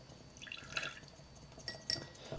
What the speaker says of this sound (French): On va mettre ensuite un petit peu d'eau, on va tout mélanger